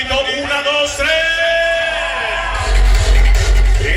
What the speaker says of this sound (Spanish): Yo quiero escuchar un grito de toda la banda.